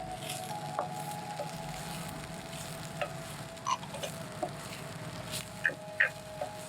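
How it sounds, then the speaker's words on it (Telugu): Chicken liver frying in a pan with green chilli and spring onions, a steady sizzle with occasional stirring clinks and pops, close and moderately loud, no talking. "ఇప్పుడు గ్రీన్ చిల్లీ వేసుకుందాం స్ప్రింగ్ ఆనియన్స్ వేసుకుందాం"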